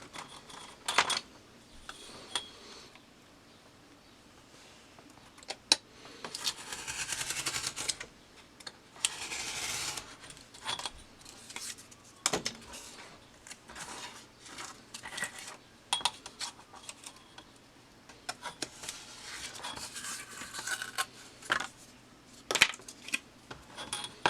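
Cardboard pieces for a cellphone caddy being cut and handled, a close series of scraping, rasping cuts and light taps and rustles, irregular and fairly quiet, with no talking.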